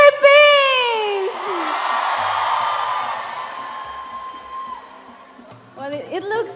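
A Philippine crowd at the Miss Earth 2017 pageant whoops, yells and cheers in a loud, sustained roar that swells early and slowly fades, with a host's voice breaking in near the end.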